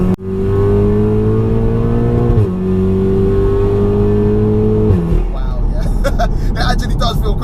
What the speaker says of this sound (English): Don't know if you can hear the sound of the turbo spooling.